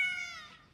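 One short cat meow sounds clearly and close, sliding down in pitch and fading out quickly, with nothing else heard.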